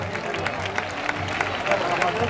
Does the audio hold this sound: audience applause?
yes